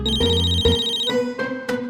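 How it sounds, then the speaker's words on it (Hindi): A phone rings in a Hindi TV drama scene, a bright electronic ringtone with repeating tonal bursts, loud and close with no voices over it. "फोन बज रहा है, किसका है?"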